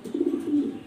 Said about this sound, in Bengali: এল ব্ল্যাক কালার ড্যানিশ 21 সিংয়ের ইনপোর্টের সেই রকম একটা নর কবুতর